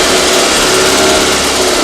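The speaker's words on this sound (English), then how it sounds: "First, switch on the ignition key." A small internal combustion engine on a laboratory test rig with a water calorimeter, running loud and steady with a dense, unbroken high-pitched drone and no pauses.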